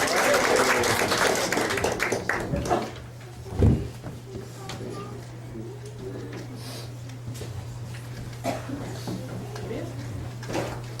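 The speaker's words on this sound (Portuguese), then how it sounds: "Então recebam com uma salva de palmas nosso amigo Almir Passoni." An audience at a church gathering applauds to welcome a guest speaker, with clapping loudest at the start. It fades within a few seconds into a quieter room with a steady low hum and occasional knocks, and people talk.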